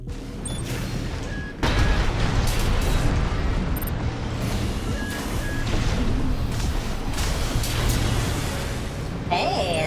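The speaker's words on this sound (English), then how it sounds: "Left shoulder grenade cannon on this AC fires explosive rounds." Grenade cannon on a mech in the Armored Core video game, firing explosive rounds amid continuous dense booming and rumbling blasts, loud and sustained throughout with mechanical clatter.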